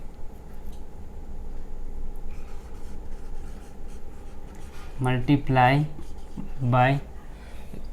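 A pen scratches faintly across paper while a linear equation in two variables is written out, and a voice speaks briefly near the end.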